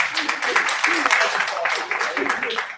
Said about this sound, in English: Again, another huge round of applause for Rana.